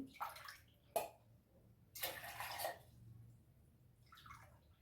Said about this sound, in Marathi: मी असे कपाने मोजून तीन कप टाकते पाणी